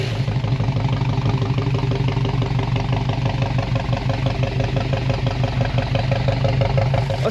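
A car engine idles steadily after camshaft work, a loud, close, rough and lumpy rumble with a fast, even pulse throughout.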